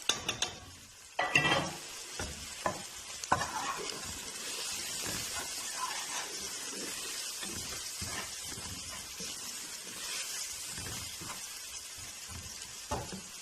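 Onions and chillies sauté in hot oil, sizzling and crackling steadily up close, with intermittent scraping and stirring of a spoon against the pan.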